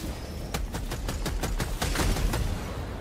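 Sentry turret in the Helldivers 2 game firing a rapid, evenly spaced burst of loud shots, sustained and close, with no talk over it.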